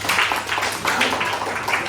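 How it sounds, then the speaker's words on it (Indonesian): A classroom of students claps for a classmate, a short burst of dense, fairly loud applause in a religious education lesson. "tepuk tangan buat Naila."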